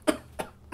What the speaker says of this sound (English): That wasn't a real cough. That was a BS cough. That was a cough to stall.